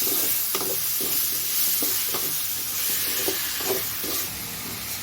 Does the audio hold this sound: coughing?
no